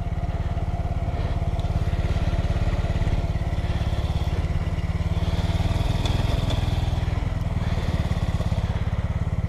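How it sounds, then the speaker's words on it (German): Motorbike engine held at high revs during a burnout, a continuous loud pulsing drone with a rough buzzing edge that stays steady throughout, heard close with no talking. "Das ist ein geiler Burnout geworden."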